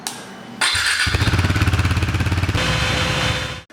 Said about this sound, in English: I want to switch on the engine, leave it in idle, and let it run for 10 minutes or so